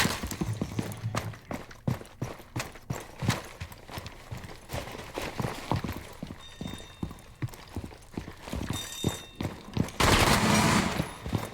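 Rapid gunfire from an SMG-11 in the Rainbow Six Siege video game, fast repeated close shots in bursts over a steady background of game noise, ending in a louder sustained burst.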